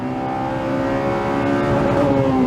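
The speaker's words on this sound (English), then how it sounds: "the engine is making an incredible racket, but it's smooth, it's comfortable." A Honda Civic Type R FD2 with its K20 engine revs hard in the upper range, a loud, steady, high-pitched engine wail held on its own with no voices.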